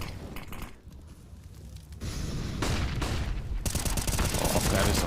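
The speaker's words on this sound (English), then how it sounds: "That is a flashbang there." Counter-Strike match audio during a major tournament: a sharp boom with a glassy burst and ringing, followed by loud rapid rifle spray and continuing gunfire that grows denser and louder toward the end.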